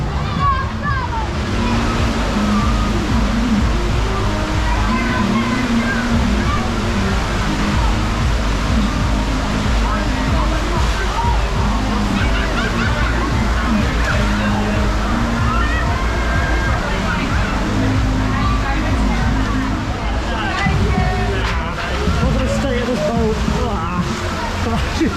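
Water sloshing and splashing around the Wild River Rapids boat ride at a theme park, a continuous loud churning rush with rumbling machinery beneath and people talking over it.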